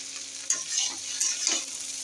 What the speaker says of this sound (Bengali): দেখো আমি ঢ্যাঁড়সটা এইভাবেই ভাজি